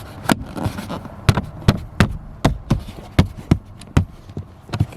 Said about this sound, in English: just pop the clips back in